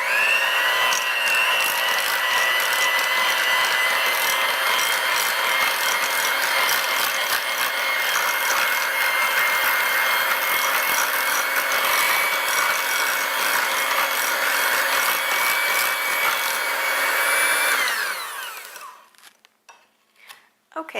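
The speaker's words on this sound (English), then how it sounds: "I'm going to turn my mixer down and gradually add in 1 cup" Electric mixer beating a block of cream cheese in a home kitchen, a steady whirring drone running continuously for about eighteen seconds before switching off, followed by faint clatter.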